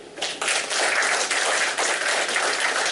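An audience at a leadership session bursts into applause, a dense, steady wash of many hands clapping together that holds for a few seconds, close and fairly loud.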